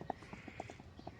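A mare's hooves clip-clop at a walk on hard ground, evenly spaced, fairly close strikes, about four to five footfalls in quick succession.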